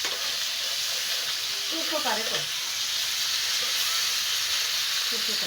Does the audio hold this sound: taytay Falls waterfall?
no